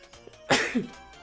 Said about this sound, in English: I know that the sneezes can come across extraordinarily loud on the mic